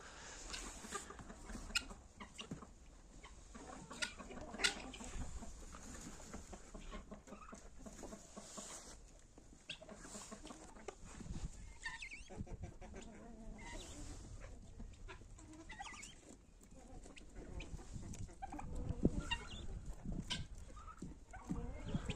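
Backyard hens cluck and chatter continuously during a morning feeding of oats and grain on a Ukrainian homestead, a dense overlapping flock sound at close range with occasional louder squawks.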